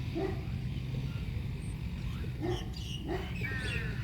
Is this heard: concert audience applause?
no